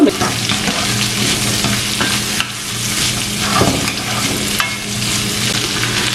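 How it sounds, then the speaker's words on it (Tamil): Green chillies and curry leaves with dried anchovy sautéing in a pan, loud continuous sizzle with repeated scraping stir strokes and a few brief pauses between passes. "இதை மிக்ஸ் பண்ணி போட்டு ஒரு மூன்று நிமிஷம் கிளறி கிளறி வதங்க விடுங்க"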